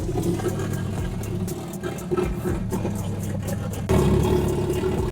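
A cheap old Ford car engine with no exhaust fitted, running loud and raw with a steady low rumble and occasional revs, growing louder near the end, close by.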